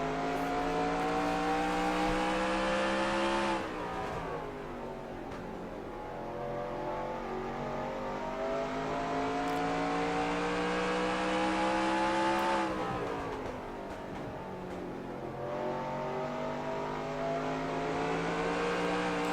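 Racing video game race car at Bristol heard from the in-car view, a loud sustained engine drone that climbs in pitch through each straight, drops abruptly twice as it lifts off for the corners, then revs up again, with no talk.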